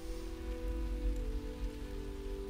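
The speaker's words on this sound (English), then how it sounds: "So, yeah, here we are, in the rain." Steady rain pattering on surfaces in the stealth video game Dishonored, a dense, continuous patter with a low rumbling bed, heard alone without any talk.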